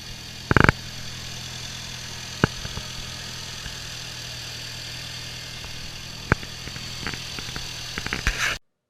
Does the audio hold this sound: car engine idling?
yes